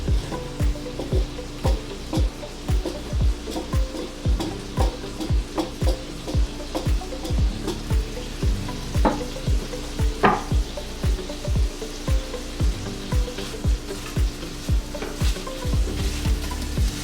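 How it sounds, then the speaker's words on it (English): Riced cod fries in butter in a pan, a steady sizzle broken by frequent scrapes and taps of a utensil stirring, close and fairly loud with no talking. "I'm going to add just a little bit more butter. And I am going to add our riced cod."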